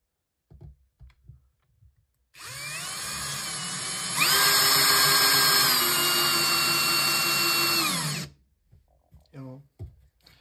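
A PARKSIDE PABSP 20-Li C2 cordless drill driver whines steadily as it drives a screw, its pitch rising under load for about six seconds before stopping, with faint clicks and handling noises before and after.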